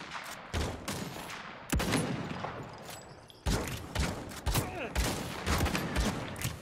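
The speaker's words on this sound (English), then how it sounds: "I'm getting shot from like literally every angle." Realm Royale battle-royale gunfire, close and continuous: repeated sharp shot bursts and fusillades coming from several directions, with brief lulls between volleys.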